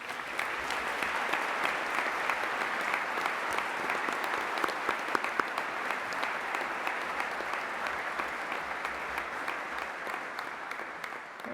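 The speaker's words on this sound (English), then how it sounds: "give a huge round of applause for the graduates of the University of Greenwich" A graduation ceremony audience at the University of Greenwich claps for the graduates, a long, even wash of applause from a large crowd that holds steady throughout with scattered sharper claps and faint cheers.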